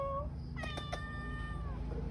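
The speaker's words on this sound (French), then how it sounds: "Regarde le chat." A cat meows in the countryside, a short call followed by a longer drawn-out meow, close and fairly clear over a low background hum.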